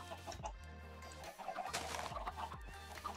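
Chickens clucking in the video game Sky Odyssey, a few short close clucks and coos over a steady hum of game music.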